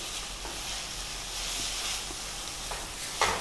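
Garlic sautéing in a pan with pepper powder, turmeric and curry chili powder about to go in, giving a steady quiet sizzle with a few faint utensil taps and a brief clink near the end.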